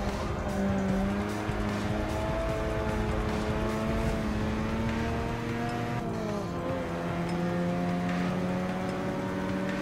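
Race cars roar at full throttle in Forza Motorsport 6, engines climbing steadily in pitch with sustained tonal whine and brief tire squeal, loud and continuous throughout with no talking.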